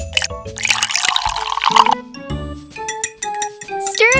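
Water poured into a small bowl of soy sauce, oyster sauce, pepper and flour in a miniature kitchen; splashing and dripping ring out with light clinks of tiny utensils, close and clear.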